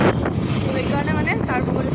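Wind buffets the microphone outdoors in a steady, loud roar that persists throughout, with a voice faintly audible beneath it.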